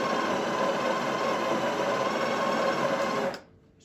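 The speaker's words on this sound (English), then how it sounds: "So I'm going to grind for about 3 seconds." The built-in grinder of a Breville Barista Touch BES880 grinds coffee beans as a steady, loud, whirring buzz for about three seconds, then cuts off abruptly into quiet.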